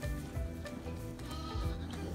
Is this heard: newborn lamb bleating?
yes